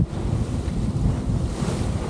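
Strong wind roars across the microphone while choppy sea waves slosh and slap around a Cromarty 36 yacht sailing into a headwind off the Cornish coast. The sound is a constant, loud, close rush.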